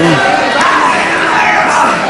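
A packed crowd at a 1977 UK wrestling match screams and roars loudly and continuously, with a commentator's voice audible over the din.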